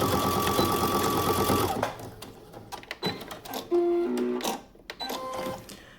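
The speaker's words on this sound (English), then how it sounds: "I'm just gonna back stitch, and sew all the way across and back stitch at the end." A sewing machine stitches across the facing of a button-down shirt with back stitching, a loud rapid mechanical whir that stops abruptly, then short stop-start bursts and clicks as it reverses.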